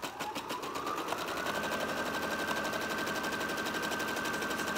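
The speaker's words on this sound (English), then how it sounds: "So I'm just gonna be sewing in a straight line." A sewing machine stitches a straight seam through fabric for a pillow, giving a fast, even mechanical chatter that runs continuously at close range with no talking.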